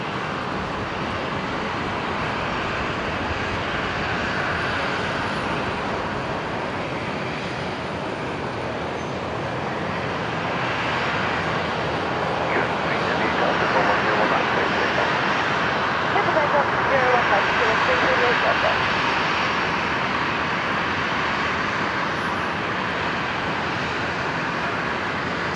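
A Dash 8 Q400 turboprop taxis toward the Qantas hangar at Brisbane airport, a steady broad engine drone that swells slightly midway, with a voice talking over it.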